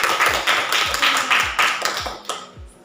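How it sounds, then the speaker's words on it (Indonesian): Applause for the first student group at the close of their physics teaching presentation: a short burst of scattered hand claps from a small classroom audience, uneven and fading out after about three seconds. "kita beri aplaus dulu untuk kelompok 1"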